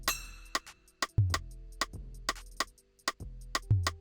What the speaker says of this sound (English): Which is basically just a rim shot, this little open hat or claw or something, and a congo.